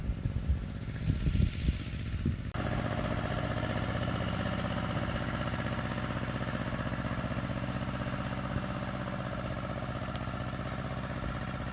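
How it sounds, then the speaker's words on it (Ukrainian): A 10-horsepower walk-behind tractor with a rotary tiller churns vegetable garden soil in autumn, its engine starting up after a few seconds of rustling, then running as a steady, close, rattling drone to the end. "У нас мотоблок досить потужний, має 10 кінських сил, тож добре справляється з роботою на нашому городі."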